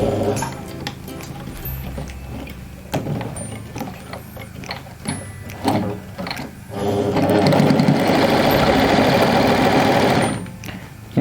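A Janome L-395F semi-portable sewing machine stitches at short stitch length settings, first in brief start-stop bursts, then in a loud, steady mechanical whir with rapid needle ticking for several seconds before stopping.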